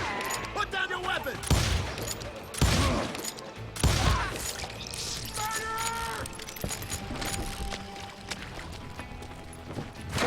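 Gunfire in the Western shooter Call of Juarez: several sharp shots crack out near the start and around the two- to four-second mark amid a busy game soundscape, with voices calling out over the fighting.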